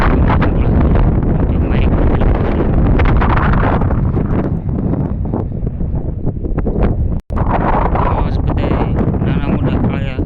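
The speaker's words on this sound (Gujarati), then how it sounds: "સામે પવન છે એટલે થોડોક તમને" Strong wind buffets a microphone outdoors at a village relief-work site in Jagdhar, Mahuva, Bhavnagar, making a loud, continuous low rumble with gusty rustling and one brief dropout near the end.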